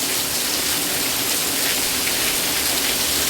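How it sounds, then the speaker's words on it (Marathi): Heavy rain pours down in a dense, steady hiss with no pauses, loud and close throughout. "बघा बघा किती मोठा पाऊस पडालाय"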